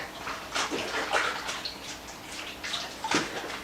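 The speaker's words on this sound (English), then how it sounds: "Let me wash my hands real quick." Tap water running while hands are washed in a kitchen, a steady close splashing rush with uneven bursts as the hands move under the stream.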